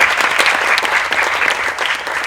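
An audience at an academic conference gives loud, dense applause, many hands clapping together in a steady roar that holds throughout without talk.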